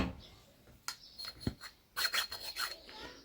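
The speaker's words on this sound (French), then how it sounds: "vous avez vu la trace que ça fait quand je lime direct" A file rasping across a cast aluminium jukebox part, several short close strokes of scraping friction, quiet and uneven, with a firmer burst of rubbing strokes toward the end.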